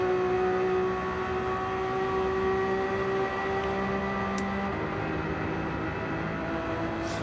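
Racing car engine in Gran Turismo 7 holds a steady, sustained drone with layered tonal harmonics and only slight pitch shifts, loud and continuous throughout with no talk over it.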